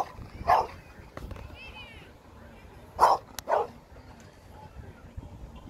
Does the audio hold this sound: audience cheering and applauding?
no